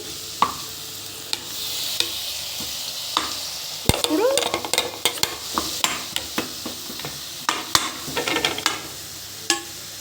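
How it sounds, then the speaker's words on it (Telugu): Tomatoes softening in a hot pan while making ridge gourd curry, a low sizzle under repeated sharp spoon scrapes and knocks against the pan, irregular and close, with no voices. "ఈ టమాటాను కూడా ఇట్లా మగ్గించుకోవాలి"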